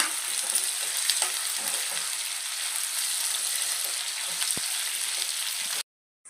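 Tomatoes and onions with tamarind and salt fry in a pan for chutney, making a dense, steady sizzle close by with a single faint clink partway through, then stopping suddenly.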